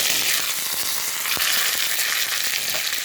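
Mustard seeds, broken dried chillies and curry leaves sizzle in hot oil for a tempering, a dense steady crackle with small pops, close and continuous.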